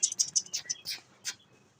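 A pet mynah bird chirping close by indoors, a quick run of high, thin tweets followed by two longer squeaky calls, fairly quiet.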